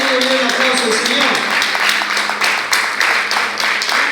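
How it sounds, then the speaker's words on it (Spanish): A church congregation applauds, steady clapping running throughout, with voices and a lingering tone heard over it in the first part. "Y un aplauso al Señor."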